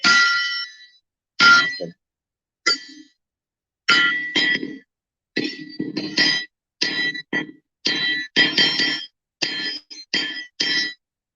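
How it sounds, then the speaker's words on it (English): Bright metallic rings from a hammer striking an anvil, in rhythmic bursts with short pauses, each strike ringing clearly and close by. "That's the sound of the anvil. I love that sound."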